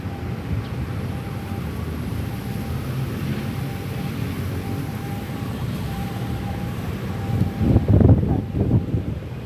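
Strong wind sweeps across a rooftop, a steady buffeting roar on the microphone that swells into louder gusts near the end, with faint voices at times.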